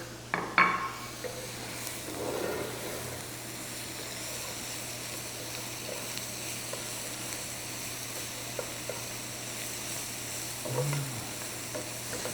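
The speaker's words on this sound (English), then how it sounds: "I'm going to go ahead and add in this garlic." Garlic and browning onions sizzle steadily in a pan while being stirred, a soft continuous frying hiss with a few light utensil scrapes and clinks near the start.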